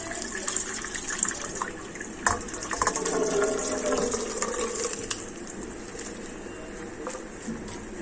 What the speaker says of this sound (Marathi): आता हे डाळीतलं पाणी आपण काढून घेऊया